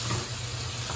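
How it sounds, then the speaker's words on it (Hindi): Ground tomato going into a hot pan of pav bhaji vegetables, giving a steady close sizzle and frying hiss for about a second. "ग्राइंड किया हुआ टमाटर है उसको मैं अब डालूंगी"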